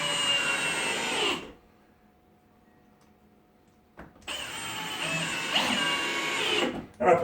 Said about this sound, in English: Now on this one, we'll put a screw in it.